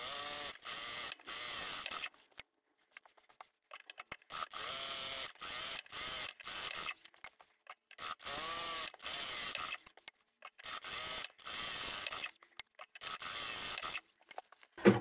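Sewing machine quilting straight lines on a table runner, rapid mechanical stitching in repeated bursts of a second or two separated by short pauses, quiet and close.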